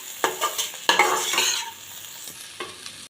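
Broccoli sabji sizzling in hot oil in a pan while a spoon scrapes and stirs it, loud close bursts of stirring over a steady frying hiss, no talking.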